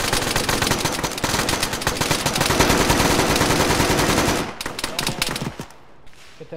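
In an Arma ShackTac squad mission, loud sustained full-auto gunfire rattles nonstop for about four seconds, then breaks into shorter bursts before fading.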